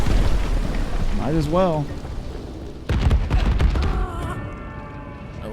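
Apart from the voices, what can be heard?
explosive eruption in video game Divinity Original Sin 2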